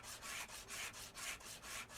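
Sandpaper rubbed on a car in Car Dealer Simulator, a rhythmic back-and-forth scratchy hiss in about five even strokes, faint and steady with no talk.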